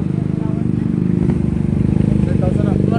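A motorcycle engine drones steadily and loudly on the road on a trip into town, its even rumble continuous throughout while a voice talks over it.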